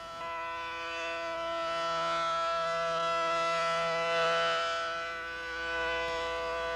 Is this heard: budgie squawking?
no